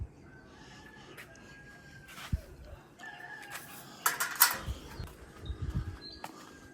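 Backyard chickens crow and cluck a few times at moderate distance against quiet outdoor background noise, with faint scattered knocks and rustles.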